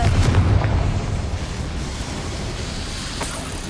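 A Confringo spell explosion in Hogwarts Legacy opens with a loud low boom that decays into a rumbling wash, followed by a faint later burst.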